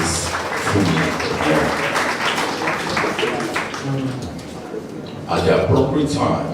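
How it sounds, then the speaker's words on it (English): Audience applause fills a members' evening event hall, a dense steady clapping that runs throughout and swells louder near the end, with voices mixed in. "Another round of applause for Mrs."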